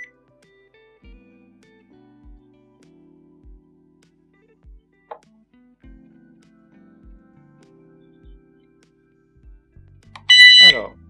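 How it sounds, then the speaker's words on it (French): A COZONEY wifi outdoor alarm siren is switched on, giving a burst of loud, close, high-pitched beeping near the end, after a stretch of quiet with soft low knocks and a brief click. "Alors passons à la sirène extérieure. Donc on l'allume."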